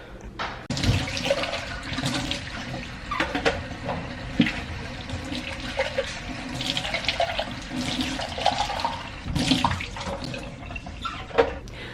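Tap water runs steadily into a sink while baby bottle pump parts are rinsed, a continuous splashing wash with occasional clatter of plastic parts, close and fairly loud throughout.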